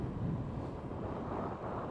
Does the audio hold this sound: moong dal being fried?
no